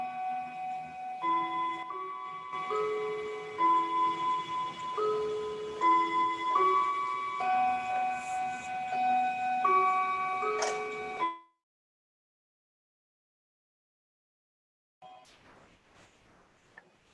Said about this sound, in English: chimes are now calling us back, calling us from the garden